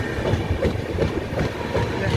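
Agnibina Express train rolling slowly through Shaktigarh station, a continuous low rumble with rhythmic wheel clatter heard from on board, steady and fairly loud, with faint talking underneath.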